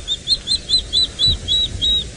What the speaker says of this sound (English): That's the beautiful call of the water thicknee